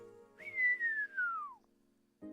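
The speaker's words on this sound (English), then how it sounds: "whistles appreciatively, just probably one of those see if I can whistle today" One long appreciative whistle, a single clear tone that rises quickly then glides slowly downward, close and fairly loud in a quiet room, followed by a brief noise.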